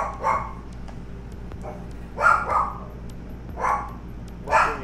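Bunny the dog barks repeatedly indoors, five sharp, close barks spaced roughly a second apart with quiet pauses between them.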